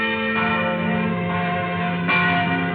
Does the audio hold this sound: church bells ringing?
yes